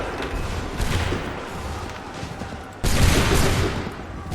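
A musket volley from Assassin's Creed 3 bursts out as a loud, ragged crackle of many shots, then a second, sharper volley hits abruptly near the end.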